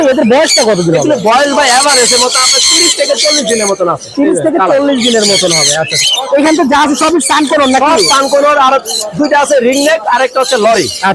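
A basket crowded with caged birds at a Dhaka bird market in Mirpur, calling without a break: dense, loud, overlapping squawks and chirps fill the whole stretch, close to the listener.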